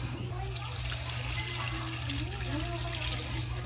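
Water pours and trickles steadily into a large pot holding lemongrass, salt and ginger, a faint continuous splashing over a low kitchen hum.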